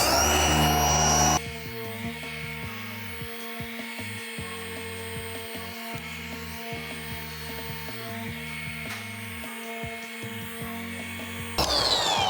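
A rotary machine polisher hums steadily on car paint, smoothing out rotary tracks; the motor drones loud and continuous with small shifts in pitch as the pad moves, briefly louder at the start and end.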